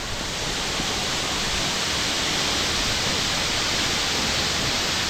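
The Njandirukki waterfall in Idukki roars in a loud, continuous wash of broadband noise, close and unbroken from start to finish, with no talk.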